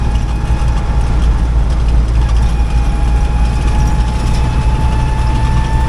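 The new engine in a 1956 Willys CJ5 jeep drones loudly and steadily on an uphill road climb, with a constant mechanical whir and rattle and no talk.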